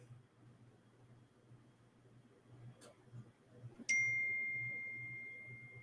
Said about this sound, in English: I just got a text message from somebody